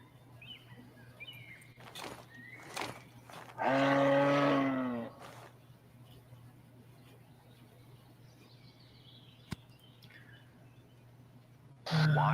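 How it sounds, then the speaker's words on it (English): Cows in the hunting video game Cabela's Pro Hunts give a single loud, drawn-out moo. Quieter distant calls and faint bird chirps sit under a low steady hum. "These are all cows, though, unfortunately."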